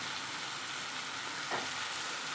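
Chopped okra tipped into tomatoes frying in a pan for a sambar-style curry, giving a steady close sizzle with one brief scrape of stirring partway through.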